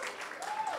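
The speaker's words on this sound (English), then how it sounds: "Big applause for Viren." Applause from an audience at an evening candle march for World Suicide Prevention Day, a brief, dense burst of clapping that stays steady throughout.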